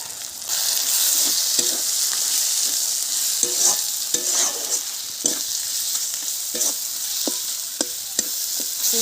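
Spices with salt, chili, turmeric and a little sugar fry in a pan for rohu fish head curry, a constant loud sizzle under repeated light taps and scrapes of a stirring utensil.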